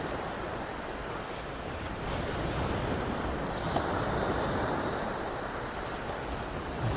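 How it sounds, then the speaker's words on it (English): Sea waves break and wash on Folkestone beach in the early morning, a steady broadband roar of surf with a slight swell midway, fairly faint and even throughout. "Here comes a big wave."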